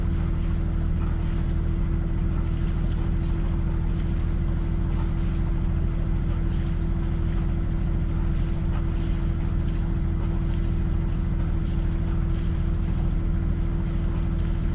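A small motorboat cruises across the Étang de Berre lagoon, its engine a steady, loud drone throughout, with wind and water noise around the hull.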